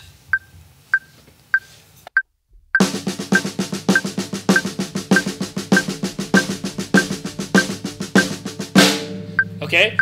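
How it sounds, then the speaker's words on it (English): Drum single stroke roll at 100 bpm over a click track, a few sharp metronome clicks alone at first, then fast even drum strokes under the steady click, loud and close. "if I'm going to play at 100 beats per minute"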